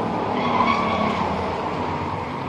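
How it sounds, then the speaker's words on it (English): Thunder Cars race out of turn four at Flamboro Speedway toward the checkered flag, a loud, steady roar of engines with squealing tires held throughout. "Here come Thunder Cars out of turn number 4, racing to the checkered flag"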